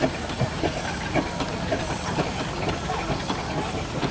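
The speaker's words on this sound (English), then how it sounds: "We've got another one coming around here, another steamroller." A steamroller traction engine hisses loudly and continuously, the close rush of escaping steam carrying faint mechanical ticking at an outdoor country show.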